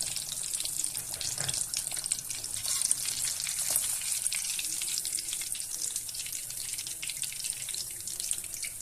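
Pieces of Jhelum River fish fry in hot oil, a continuous bright, watery sizzle with occasional pops and a few soft knocks.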